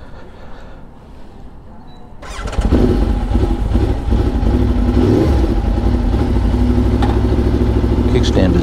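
An Aprilia Tuono motorcycle engine cranks and fires after about two seconds of quiet background, then settles into a loud, steady idle with small revs close to the microphone, and a voice speaks briefly over it.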